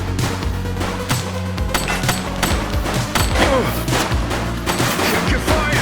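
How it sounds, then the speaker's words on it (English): Gunfire in the police video game The Precinct: a dense, loud fusillade of rapid overlapping shots and bursts with thuds, close and continuous throughout, with brief shouted voices mixed in. "Shooting!"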